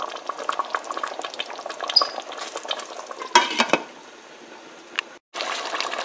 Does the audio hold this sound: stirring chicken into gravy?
yes